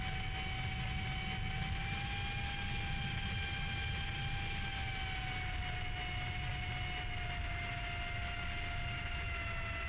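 A fighter jet's engine in Strike Fighters 2 drones steadily through a turn to final and a landing approach near stall speed, a continuous loud whine with a broad rumble and no talk.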